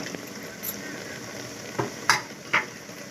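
Boiled moringa drumsticks, chicken and green chillies fry in a pan, a soft continuous sizzle broken by a few sharp scrapes and clinks of a spoon as the mixture is stirred.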